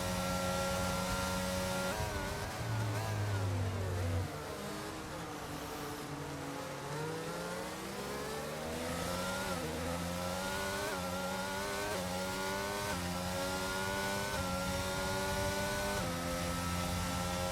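A race car engine in a racing video game on the Austria circuit screams and rises through the revs, dipping through a gear change before climbing again, loud and continuous, with other cars audible in the background.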